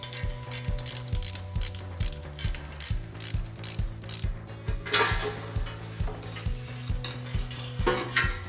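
A ratchet wrench clicks in steady rapid bursts while pulling the motor from a 1971 Camaro subframe, close and loud, with a metallic clank near the middle and a low machine hum underneath.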